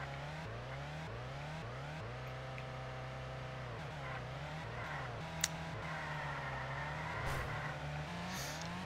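Car engine in the retro racing game Ultimate Racing 2D, a steady droning whine whose pitch climbs and drops in repeated stepped shifts as a turbo boost kicks in, with a couple of brief sharp clicks.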